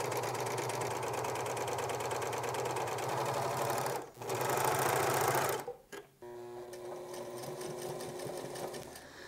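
A sewing machine runs in fast, even bursts while top stitching along pajama shoulders, whirring loudly with a brief pause near the middle, then settles into a steadier, slightly different hum near the end.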